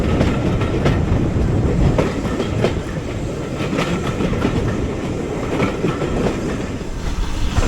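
A Great Central Railway heritage train running on rails, heard from on board as a steady loud rumble with rhythmic clickety-clack of wheels over joints throughout.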